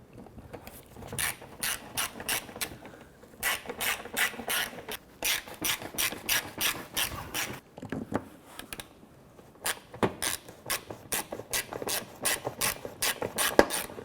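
A ratchet clicks in quick bursts while tightening bumper screws on a 2006–2013 Chevrolet Impala, several close runs of sharp rapid ticks separated by brief pauses.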